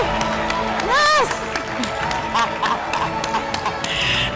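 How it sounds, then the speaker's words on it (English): Audience applause at a National Batho Pele Excellence Awards ceremony, a steady wash of clapping and crowd noise across the whole moment, with an announcer's voice and a brief whoop rising over it. "Another round of applause, one more time."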